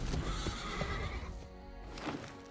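Horse neigh and whinny from a horse creature in Magic: The Gathering Arena, a loud game sound effect with clip-clop hoofbeats, fading after a second burst.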